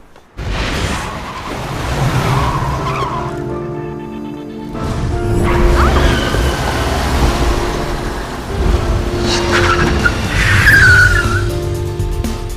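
A car drives and parks itself with no driver, its tires skidding and squealing over a steady engine, in bursts that fade and return across the scene, with no talking.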